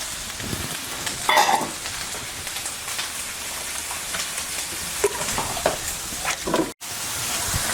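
Asparagus and red onion spread in one layer in a pan sizzle steadily, a dense crackling hiss with a few brief stirring knocks and a short dropout near the end.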